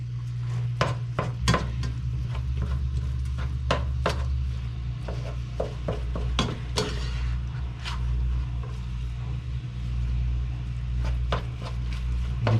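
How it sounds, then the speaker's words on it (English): A large batch of meat for chili cooks in a pot, a low simmering sizzle broken by repeated sharp scrapes and clacks of a utensil stirring, irregular and close, with no talk. "The meat's starting to cook, but it's a lot of meat"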